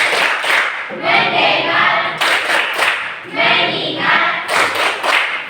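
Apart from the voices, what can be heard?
classroom rhythmic hand clapping, 'tepuk fokus' clap routine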